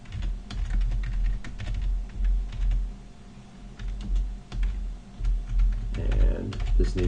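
Typing Scala code on a computer keyboard: rapid irregular key clicks close by, with someone talking over the top throughout.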